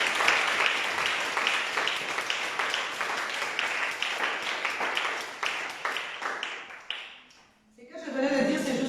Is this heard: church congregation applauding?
yes